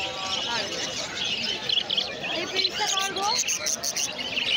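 Lutino cockatiels chirp and tweet in quick bright bursts at a busy exotic bird market, close by, mixed with crowd babble and other background noise.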